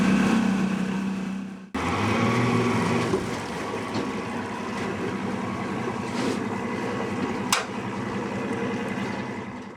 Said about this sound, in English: your boat, take your speed up to a fast walking pace, around 2000 RPMs or 4 knots